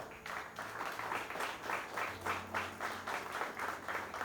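A church congregation applauds in rhythmic unison, regular claps in a steady beat about five per second, moderately distant and fairly quiet, alone without talk.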